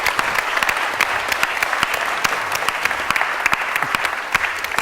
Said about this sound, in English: Can you all give Tom a round of applause?